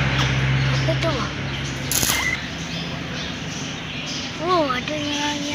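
Several short bird calls and chirps come from near a strawberry farm, with a few rising whistled notes. They sound under a voice talking in Malay.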